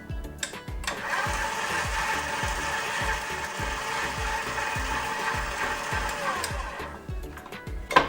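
Flour and salt being mixed together in a bowl for vegan soft pretzel dough: a steady mechanical whirr with rhythmic ratcheting clicks runs for about six seconds before stopping, close and fairly loud, with no talking.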